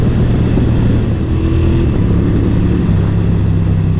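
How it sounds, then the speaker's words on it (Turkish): Motorcycle fitted with a Healtech quickshifter running steadily, engine drone with harmonic tones shifting midway as gears change; exhaust pops are not distinct, with wind noise throughout and no talk. "vitesi böyle değiştirme sayesinde egzoz ara ara patlamalar yapıyor"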